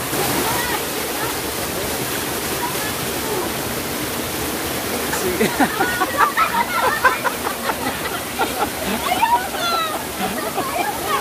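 A waterfall at Luban roars in a steady, loud rush close by, while voices talk and call out over the noise.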